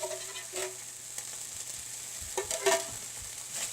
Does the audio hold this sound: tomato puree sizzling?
yes